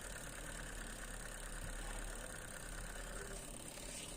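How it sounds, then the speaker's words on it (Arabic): A washing machine motor wired to a seven-terminal timer runs with a steady, even mechanical hum at close range, with no voices over it. "بص الموتور بيلف ازاي"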